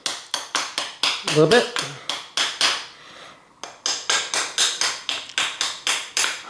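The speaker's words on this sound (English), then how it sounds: "I'm going to take a hammer and just tap up on them" A hammer taps up on the extended stanchions of a Suntour XCR suspension fork during disassembly, a steady run of sharp metallic knocks, close and loud, pausing briefly midway before resuming, with someone speaking briefly.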